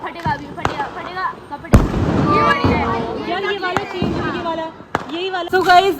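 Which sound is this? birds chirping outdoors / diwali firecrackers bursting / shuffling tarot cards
diwali firecrackers bursting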